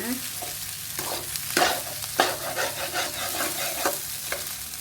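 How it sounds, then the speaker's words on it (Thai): Rice being stir-fried with setting egg in a pan for shrimp fried rice, with a steady low sizzle under repeated scraping and tossing strokes of a spatula, close and fairly loud, no talking. "ไข่เริ่มเซ็ตตัวก็ใส่ข้าวลงไปเลยนะคะ"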